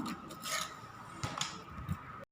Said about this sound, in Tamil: பண்ணிவிட்டு நம்ம இப்போ கட் பண்ணிடலாம்